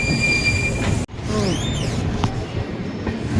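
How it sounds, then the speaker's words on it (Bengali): An Ahmedabad–Howrah superfast express rolls slowly through a large curve, its wheels letting out drawn-out, rising and falling metallic squeals over a steady rumble of carriages, close and loud, with a brief dropout partway. "দেখতে পাচ্ছি আমাদের ট্রেন একটা বিশাল কার্ভ নিচ্ছে আস্তে আস্তে"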